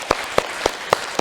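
Five sharp, evenly spaced claps from a church congregation at a Korean Sunday service in Berlin, each a distinct broadband burst with quiet gaps between, fairly close and moderately loud.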